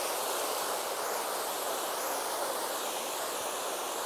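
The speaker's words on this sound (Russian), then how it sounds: "Известный бичичанский водопад." The Bichichan waterfall in Montenegro pours in a steady, dense roar of rushing water, loud and continuous throughout with no voices over it.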